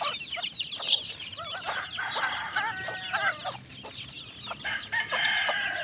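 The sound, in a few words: chicks and hen clucking during feeding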